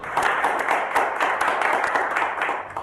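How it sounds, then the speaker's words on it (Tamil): An audience claps after a Tamil poem recital, a steady spread of many hands clapping for about three seconds, fairly close with no voices over it. "உங்கள் கரகோஷத்தை கேட்பதே இந்த கவிஞனின் எதிர்பார்ப்பு"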